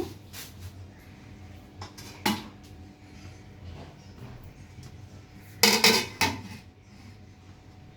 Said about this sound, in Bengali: এখন আমি এটাকে ঢাকনা দিয়ে ঢেকে দিব।